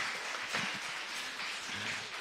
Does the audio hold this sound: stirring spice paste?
no